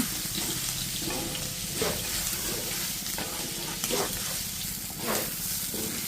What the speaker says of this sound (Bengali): এখন আমি চালটা কষিয়ে এখানে দিয়ে দেব গরম জল